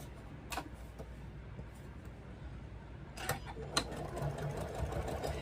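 A domestic sewing machine stitches a small quilted fabric ornament, running in a steady rapid mechanical whir with a few louder clicks and taps, fairly close and moderately quiet.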